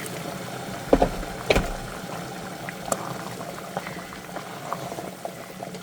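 Hot water is poured into rice in a pot while cooking pulao. It makes a soft, steady bubbling and gurgling stream with a few louder splashes near the start, fairly quiet and close, with no talking.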